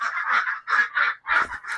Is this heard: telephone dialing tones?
no